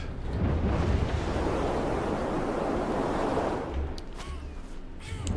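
Wind gusts roar in the video game Never Alone (Kisima Ingitchuna), a loud, steady rushing blast that dips briefly near the end and then swells again, with no one talking.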